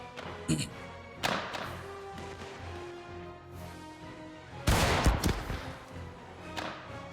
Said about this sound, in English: Let's see how many shots I can get off before he finishes his reload.